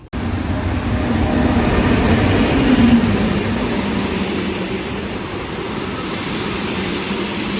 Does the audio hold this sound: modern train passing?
yes